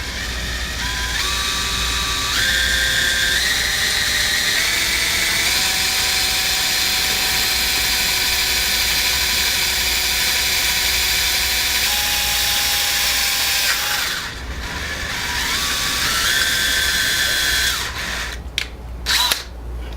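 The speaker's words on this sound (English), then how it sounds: "and then you drill." A power drill bores holes into a soft metal display shelf for an O scale model train layout, its close, steady whine shifting pitch in stages over a long continuous run, then cutting out near the end with a few brief clicks.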